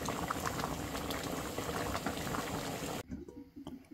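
Chicken curry boiling in a pot, a dense, continuous bubbling and simmering heard close up that suddenly drops to a quieter, sparser bubbling near the end, with no speech.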